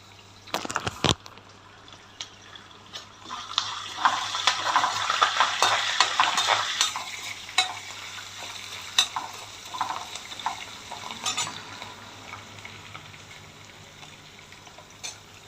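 Curry leaves sizzle and crackle in hot oil in a pan while being stirred with repeated scraping, with soft spattering pops throughout.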